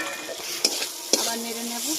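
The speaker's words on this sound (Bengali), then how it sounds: "এবার সজনে ডাঁটাগুলো দিয়ে দেবো" Drumsticks tipped into a pan of potatoes cooking for a rohu fish curry, stirred with a few sharp utensil scrapes against the metal over a soft sizzle.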